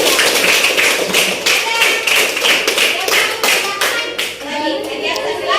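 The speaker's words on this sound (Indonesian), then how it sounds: "Tepuk tangan dulu untuk teman" A class of students claps for a classmate in a classroom, a loud, uneven burst of hand claps with children's voices mixed in throughout.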